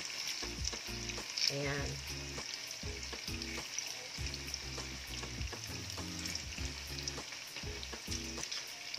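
An ingredient for sweet and spicy pancit canton fries in a pan until lightly browned, with a steady close sizzle broken by the repeated clatter of stirring; a single short word is spoken.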